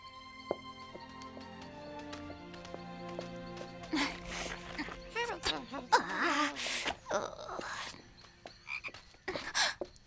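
A cartoon frog croaks several times in short bursts over a soft background of music, close and clear, with a character speaking nearby.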